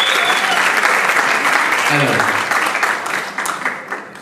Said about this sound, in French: Applaudissez encore une fois pour lui.